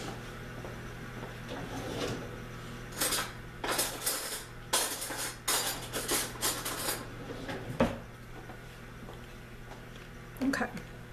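A spoon is fetched in a home kitchen: a burst of clinking cutlery, rattling utensils and a drawer being handled, close and uneven, with quieter gaps and a final clink.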